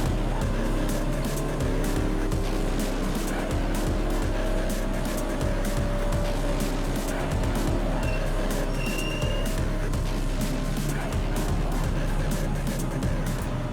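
Continuous loud engine roar with rising and falling whine from bio-diesel race cars circuiting a banked track in a 12-hour race, dense and unbroken throughout with some squealing tones.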